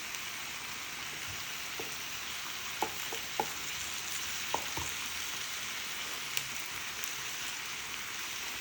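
Vegetables and cauliflower for a vegan curry sauté quietly in a pan, giving a soft, even sizzle with a few scattered clicks from the pan and utensil.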